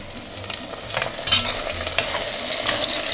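Onions frying in a pot for Uzbek lamb and rice plov. Their sizzle is steady and continuous, broken by a few stirring scrapes and clinks, close by, with no voices.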